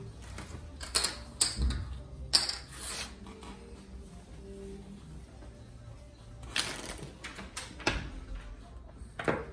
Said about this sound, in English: you gotta shuffle that real good